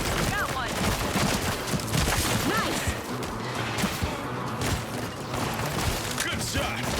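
Rapid gunfire in a video game rattles almost nonstop at a steady, loud level, with dense repeated shots and impacts, and a voice talks over it now and then.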